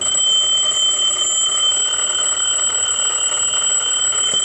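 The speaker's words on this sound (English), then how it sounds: "go ahead and push this up, and it'll go ahead and demonstrate the alarm" A mechanical alarm clock with its bell ringing: a loud, steady, continuous metallic clatter heard up close and on its own for several seconds, with no pause in the ringing.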